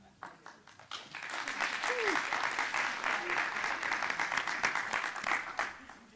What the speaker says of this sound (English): Let's cheer for Manon.